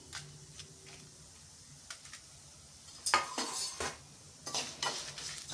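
Byadagi chillies roast in a pan while a utensil stirs them, producing close scraping and clinking against the metal with a faint sizzle beneath and louder bursts of stirring toward the end.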